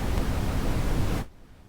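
A test tone generator outputs broadband white noise, a loud steady hiss that fills the whole range for over a second and then cuts off abruptly into near silence.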